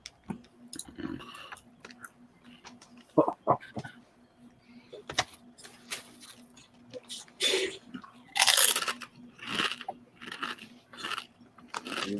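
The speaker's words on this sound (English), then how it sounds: "Let's talk about them potato chips." Jalapeno potato chips crunching close up in irregular bursts of sharp, brittle crackles, with short pauses between bites and a louder cluster near the end.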